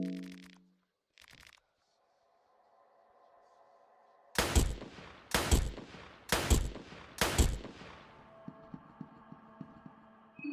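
Four loud, close gunshots from a gun in the game Fear and Hunger 2: Termina, spaced about a second apart, each ringing out with a decaying tail, followed by softer rhythmic clanks and a lingering tone.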